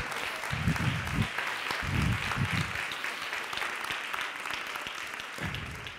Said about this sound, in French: Merci beaucoup d'applaudir avant.